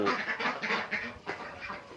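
Farm ducks kept for eggs quack in a rapid, close series of nasal calls over two seconds, several birds overlapping with short gaps between bursts.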